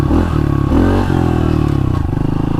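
A small motorcycle is ridden with a buzzing engine that revs and shifts pitch, rising briefly in short bursts, close and loud.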